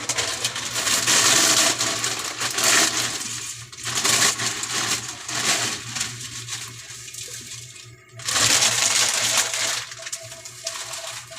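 Pancit canton noodles go into a hot pan for a breakfast food stall, setting off loud, broad sizzling and hissing that swells and ebbs in waves over a low steady hum.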